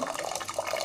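A brief, continuous gush of water pouring into a pressure cooker, bubbly and close, with no talking.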